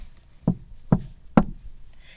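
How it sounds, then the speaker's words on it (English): Three firm knocks on a door, evenly spaced about half a second apart, close and solid with a dull wooden thud, in an otherwise quiet room. "He knocked 3 times."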